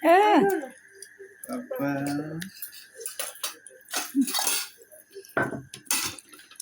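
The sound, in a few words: dishes and cutlery while eating haleem and falooda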